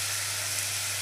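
Chicken sizzling steadily in hot oil over lowered heat while being stir-cooked for a Bengali chicken dish, a dense even hiss with a constant low hum beneath, close and continuous with no pauses.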